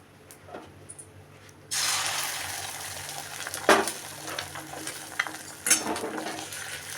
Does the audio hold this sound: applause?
no